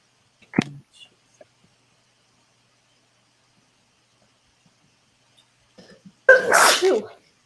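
A single loud sneeze bursts out near the end of an otherwise quiet stretch, after a short sharp intake sound at the start and a few faint clicks.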